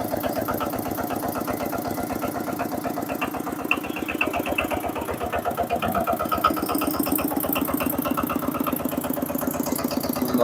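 Aging Chinese-built machine engine, seven years in service with a radiator that constantly needs topping up, running at a steady loud idle with a dense rapid knocking pulse throughout, rising slightly in intensity toward the end.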